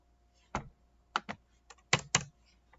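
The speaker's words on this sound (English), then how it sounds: "See how bad I am with typing?" Keystrokes on a computer keyboard, six distinct close taps in an uneven rhythm against a quiet background.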